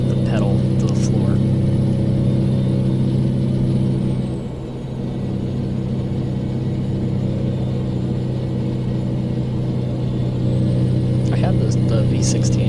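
A V16 truck engine with 800 horsepower holds steady at full throttle while climbing uphill in a driving video game, a loud, continuous, even rumble that dips for a moment, with brief talk over it.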